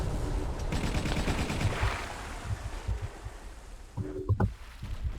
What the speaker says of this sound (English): The hail of American bullets also indicates something quite similar.